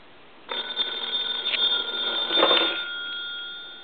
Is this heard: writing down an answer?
no